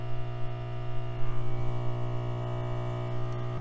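Steady whirring hum of a hot air rework station's fan as it runs through its shutdown cooldown on an electronics repair bench, a constant close drone with a faint click near the end, no voices.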